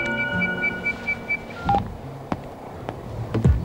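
Telephone dialing tones: a quick run of evenly spaced keypad beeps, followed by a few clicks and soft handling noises on the line.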